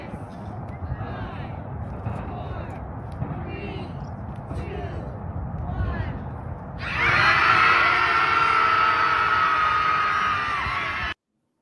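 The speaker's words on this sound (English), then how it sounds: "people went out to go out and howl, just like do a cosmic like scream or something" A crowd in San Francisco howls and screams together, first as scattered distant yells and whoops, then swelling into a loud, sustained collective howl that ends abruptly.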